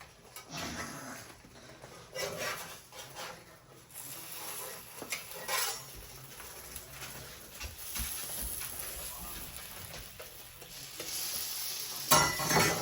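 A spinach quesadilla fries in a pan with a continuous close sizzle and crackle, rising and falling in patches, with a few faint clatters toward the end and no speech.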